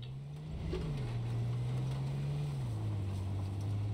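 A car engine in the video game H1Z1 runs with a low, steady drone that rises slightly in pitch midway and then settles lower, alone and continuous.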